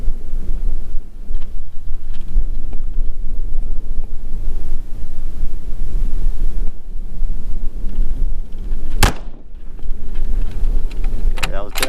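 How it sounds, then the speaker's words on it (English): A strong crosswind of about 12 to 15 mph buffets the microphone at an outdoor shooting range with continuous low rumbling roar and gusts, a brief sharp bang near the end. "this wind's kicking up pretty good"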